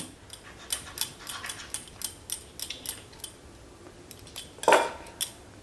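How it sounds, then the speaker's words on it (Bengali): A knife cuts through rolled fenugreek paratha dough on a board, making a quick series of light clicks and taps, then one louder scrape near the end, with no talk. "এবার একটা ছুরির সাহায্যে আমি এই রুটিটার মাঝখান থেকে একটা সাইডে কেটে দিচ্ছি।"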